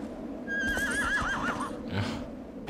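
A horse in the video game Shadow of the Colossus gives a loud, wavering whinny lasting about a second, followed by a short snort, with faint hoof clatter beneath.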